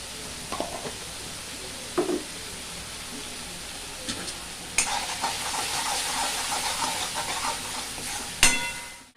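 Steady sizzling of spice masala frying in hot oil for a brain fry dish, with a few soft scrapes and clicks from stirring and a louder burst of sizzle near the end.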